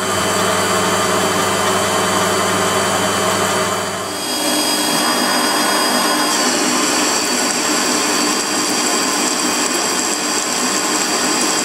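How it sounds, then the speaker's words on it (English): Aluminium being turned on a Warco metal lathe with aluminium-cutting tips, a steady whining machine drone with a tonal shift partway through, loud and continuous with no talking. "Those aluminium tips cutting lovely."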